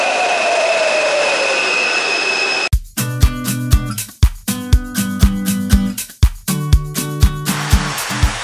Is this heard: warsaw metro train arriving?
yes